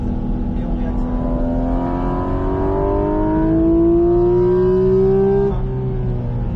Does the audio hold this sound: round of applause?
no